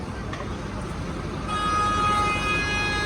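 A car horn sounds over steady street traffic noise in Budapest, a sustained tone joining the background partway through.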